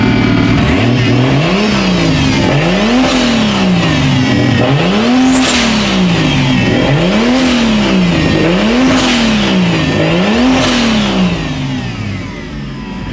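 Toyota 2JZ-GTE VVTi engine in a Nissan S13 revving on a dyno, loud and close, rising and falling in repeated rhythmic sweeps about every 1.5 seconds, with sharp blips at each peak.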